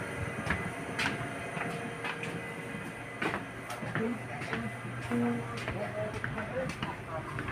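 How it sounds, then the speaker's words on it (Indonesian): Steady rumble of a passenger train rolling along the rails, heard from inside a carriage, with people talking over the continuous noise. "Kita naik kereta api."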